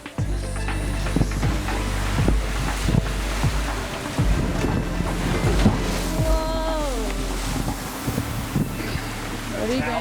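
Steady rumble of wind and water around a sailboat in 2 to 3 metre heaving ocean swell, with low engine drone and creaking underneath; voices briefly rise over the noise.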